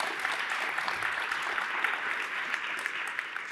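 An audience at a university lecture event claps in a brief, even round of applause, a thick wash of hands at close range with no talking over it.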